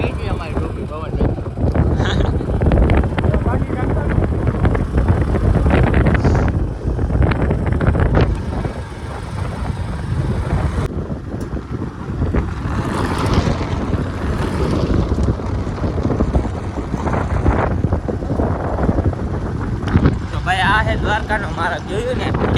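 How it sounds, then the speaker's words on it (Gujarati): Strong wind gusts roar and buffet the microphone beside spinning windmills along the national highway to Dwarka, loud and continuous throughout, with people talking under the blustering wind. "ફૂલ પવન આવતો હતો"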